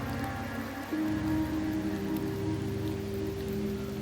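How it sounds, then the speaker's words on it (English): Steady rain falling in a fantasy video game, a soft continuous patter and hiss heard under sustained musical tones that swell slightly partway through. "The rains in Septimont never seem eager to leave this season."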